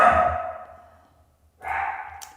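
Dogs bark twice in the distance, one bark ringing out and fading, then a pause before a second bark, with no voices.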